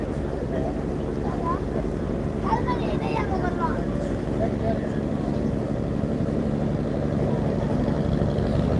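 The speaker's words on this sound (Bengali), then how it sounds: "লঞ্চটি আকিমুদ্দিন ঘাট থেকে ছেড়ে যাচ্ছে ঢাকার উদ্দেশ্যে" Passenger launch MV Faran pulls away from Hakimuddin launch ghat bound for Dhaka, a loud steady low engine rumble and churning water with wind buffeting the microphone and faint distant voices.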